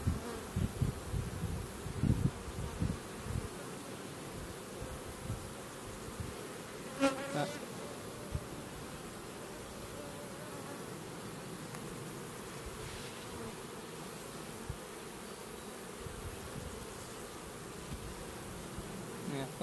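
Honeybees buzz continuously around a hive, a soft, steady insect drone at moderate distance, with an occasional louder bee passing close by.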